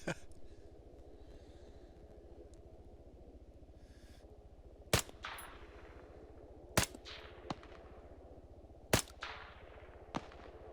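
Sharp M14 rifle shots in ARMA 3, a handful of loud cracks spaced a second or two apart, each trailing into a short echoing tail over steady low ambient rumble.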